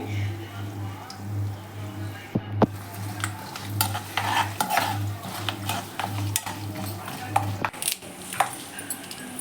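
Curry leaves and spices frying in a pan for a festival meal, stirred with a utensil that scrapes and clicks irregularly over a steady low hum, with a few louder clanks along the way.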